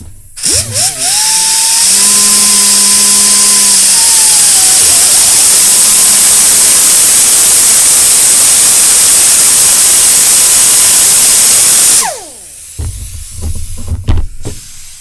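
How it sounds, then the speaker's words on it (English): An air-powered cutoff wheel slices through a braided stainless steel line, a loud, sustained high-pitched whine and hiss running for about twelve seconds at close range, then stopping abruptly, followed by a few scattered clanks. "there's my cutoff wheel"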